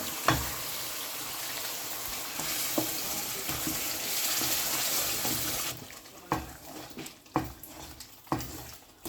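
Soaked lentils dropped into a hot pan with cumin for haleem, giving a steady loud sizzle that fades into quieter frying with intermittent clinks and stirring knocks.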